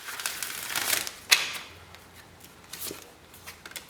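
Tarot cards are shuffled by hand, giving close papery riffles and soft slaps in uneven bursts, with one sharper snap partway through.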